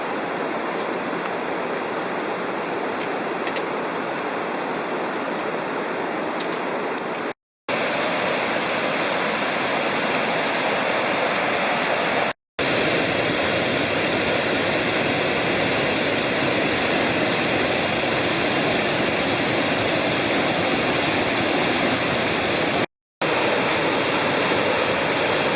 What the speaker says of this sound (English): This is the heart of the whitewater above Ball River Falls